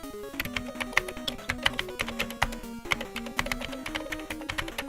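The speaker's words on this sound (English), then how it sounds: "I don't know if you heard my keyboard typing." Computer keyboard typing, a steady run of quick clicky keystrokes close to the mic with brief pauses, heard alone over a low tonal background.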